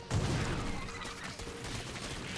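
Widow mine shots in a StarCraft 2 match, dense bursts of crackling, explosive game fire spreading into a steady, busy wash of battle noise.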